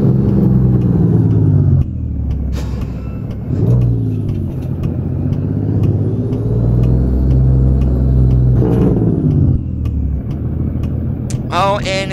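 Heavy truck engine in American Truck Simulator droning steadily at about 1700 RPM at highway speed, a continuous low rumble with slight shifts in pitch, a voice briefly audible near the end.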